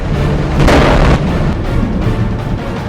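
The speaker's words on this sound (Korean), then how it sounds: "갑자기 터진 폭발음." A deep, heavy boom of an explosion erupts early from a fierce kiln fire fed with pine resin to melt salt at a bamboo salt factory, and rumbles on, followed by crackling, roaring bursts that continue loudly to the end.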